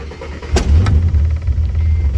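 A Ford AU Falcon engine firing up for the first time, with a sharp backfire crack near the start, then a steady low rumbling idle that continues loud and close.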